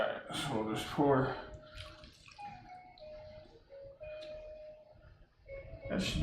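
Red wine for a steak sauce pours into a small glass in a home kitchen, a gurgling, rising trickle with drips, framed by brief speech at the start and end.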